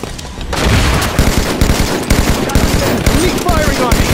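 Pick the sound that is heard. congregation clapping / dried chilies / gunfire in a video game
gunfire in a video game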